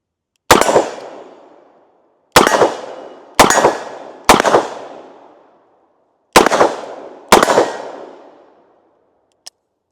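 Six loud, sharp gunshots from a Smith and Wesson Model 19 Combat Magnum revolver firing .357 rounds, spaced irregularly, each with a long ringing decay, followed by faint clicks.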